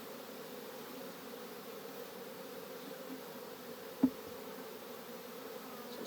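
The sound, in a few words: honey bees buzzing during honey harvest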